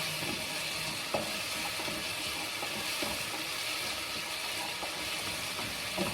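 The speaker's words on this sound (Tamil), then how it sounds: "நல்லா வதக்கி விடணுங்க." Tomatoes sautéing in a pan with a wooden spoon, a soft continuous sizzle with faint, occasional spoon strokes, fairly quiet and with no talk.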